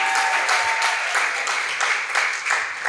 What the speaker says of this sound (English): So please help me clap for Stanley again